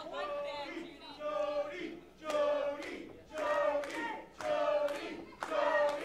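Women's wrestling match crowd at a PWE event gives a mixed reaction, with rhythmic bursts of cheering, chanting voices and clapping that rise and fall roughly once per second and repeat several times.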